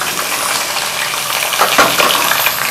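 Boneless chicken pieces frying in a pot with browned onions, a loud, close, continuous sizzle with a few brief stirring scrapes near the end.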